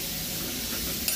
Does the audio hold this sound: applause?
no